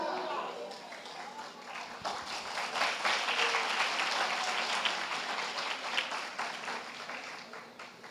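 A church congregation applauds in praise during a Portuguese-language worship service, with dense, steady clapping running the full length and voices mixed in.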